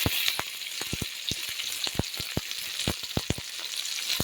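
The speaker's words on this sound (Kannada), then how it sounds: "ಈರುಳ್ಳಿನೂ ಕೂಡ ಚೆನ್ನಾಗಿ ಫ್ರೈ ಮಾಡ್ಕೊಳ್ಳೋಣ. ಈಗೇನು ಈರುಳ್ಳಿ ಫ್ರೈ ಆಯ್ತಲ್ಲ, ಅದ್ರ ಜೊತೆಗೇನೆ ಟೊಮೊಟೊ ಕಟ್ ಮಾಡಿರೋದನ್ನು ಕೂಡ ಹಾಕ್ಕೊಳ್ತೀನಿ" Chopped onion and tomato fry in a pan with steady broadband sizzling, punctuated by frequent sharp spatters and pops at an uneven rhythm, close and fairly loud, with no voices.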